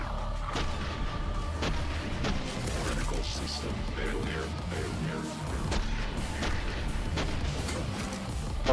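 Gunfire in the video game SPRAWL: repeated sharp shots and booming impacts burst over a dense, busy game soundscape, loud and close, with a person talking over much of it.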